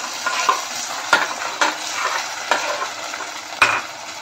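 A curd, milk and flour paste sautés in a hot pan for an egg curry. A spoon stirs and scrapes in sharp, repeated strokes over a soft, continuous sizzle, close and alone.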